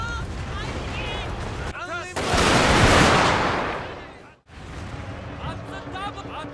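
A massed musket volley from a Shogun 2 Total War battle cinematic roars as a dense burst of fire lasting about two seconds, framed by shouted orders before and after.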